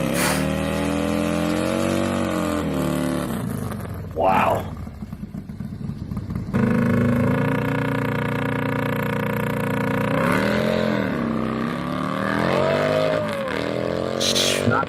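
A drag racing motorcycle engine revs hard and loudly, rising in pitch through sustained roars with a brief pause, while a person exclaims and talks over it.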